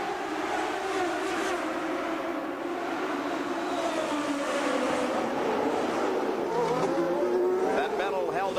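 IndyCar race cars at the 1990 CART Vancouver street race, several high-revving engines whining and buzzing past in close traffic, pitch rising and falling as cars pass, loud and continuous with a commentator talking over them.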